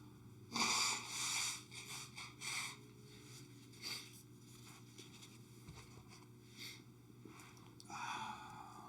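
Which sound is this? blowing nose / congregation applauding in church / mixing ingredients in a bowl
blowing nose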